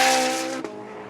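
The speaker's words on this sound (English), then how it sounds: "The Porsche GT3 RS is completely at home around this Donington circuit." A Porsche GT3 RS at speed on the Donington racing circuit gives a loud, high engine note that fades over about a second, ending in a short sharp transient.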